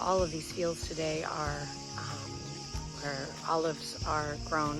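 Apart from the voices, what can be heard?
cicadas chirping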